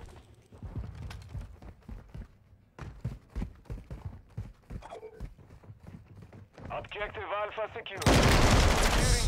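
Weapon fire in Modern Warfare 2 during a team deathmatch-style match: scattered shots and short bursts with footsteps, mixed under steady talk from several players, ending in a loud burst of noise.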